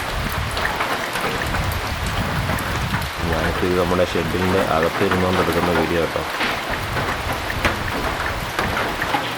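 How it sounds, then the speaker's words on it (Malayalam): Heavy rain pours on the forest beside the Periyar reservoir, heard from inside a shed as a steady, dense hiss that fills the whole stretch, with someone talking over it partway through. "ശക്തമായ മഴയാണ്"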